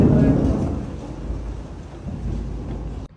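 Low rumbling thunder rolls on as a rainstorm approaches, loud at first and then fading to a steady grumble with a rain-like hiss over a few seconds.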